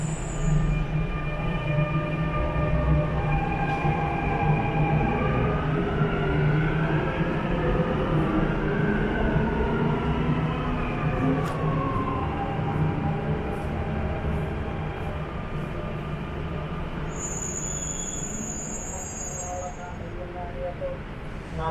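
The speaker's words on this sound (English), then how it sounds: "Train 2, Jebel Ali, will arrive at platform 1." Dubai Metro train arriving at a station platform: a steady, loud rumble of wheels and motors with rising and falling electric whine tones, brief squeals, and a chime toward the end.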